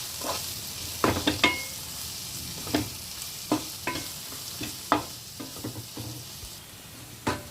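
A spoon repeatedly stirs an egg puff masala in a pan with turmeric, salt, coriander powder, garam masala and fresh coriander. Sharp scrapes and taps recur at an uneven pace over a soft background sizzle.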